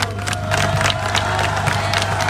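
An audience claps on request, a dense burst of many hands applauding together at a steady level for a couple of seconds, with a faint electrical hum underneath.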